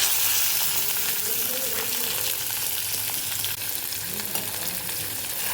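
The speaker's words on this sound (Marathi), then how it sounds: "याला थोडा वेळ छान फ्राय करून घ्यायचं तेलामध्ये" Chopped green chilli pieces and curry leaves fry in hot oil, giving a continuous loud crackling sizzle up close, with faint stirring and no speech.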